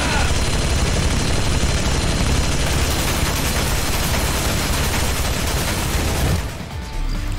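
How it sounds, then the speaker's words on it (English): A minigun firing in the video game AI: The Somnium Files, a relentless loud stream of rapid shots sustained for over six seconds before cutting off into a quieter tail. "Is that a whole minigun?"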